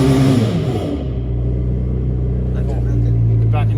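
A Yamaha AR190 jet boat engine revs as the throttle is pushed forward, a loud, steady low rumble that settles into a deep drone, with someone talking over it.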